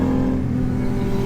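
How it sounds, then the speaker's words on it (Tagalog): A noisy car roars past close by on the road, a loud steady engine drone with no voices. "Ang masama lang dito sa pwesto ko kasi maraming maingay na dumadaan."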